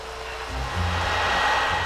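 A Hoover vacuum cleaner of the kind built at the Merthyr Tydfil factory in Wales runs with a steady, continuous motor whir and airy hiss, moderately loud and close, with no voices.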